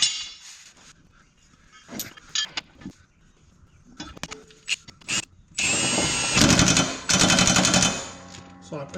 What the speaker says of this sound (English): I have the impact on my lowest impact setting.